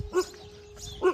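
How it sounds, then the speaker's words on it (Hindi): Large dog at an ashram by an old ghat on the Narmada, barking twice about a second apart, moderately close, over a steady background hum. "ये देखो ये भौंक रहा है।"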